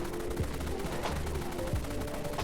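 X-AK 47 rifle fire in the online game Dead Frontier: a rapid burst of sharp, evenly spaced shots with a reverberant tail, fairly quiet and without talk.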